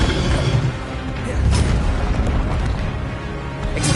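Spell effects firing in Hogwarts Legacy: a run of booming bursts and magical whooshes with rumbling impacts, loud and close, layered over one another without a break.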